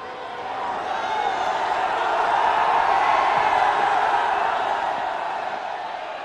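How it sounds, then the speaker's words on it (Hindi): A large crowd at a political event in Varanasi with the Prime Minister present roars and claps in a broad, steady wash that swells and holds, heard from a distance. "आप सबकी तालियों के साथ।"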